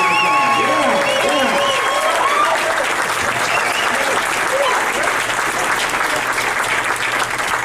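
An audience at a comedy graduation show breaks into loud, sustained applause that stays dense and even throughout, with some whoops and voices mixed into the clapping.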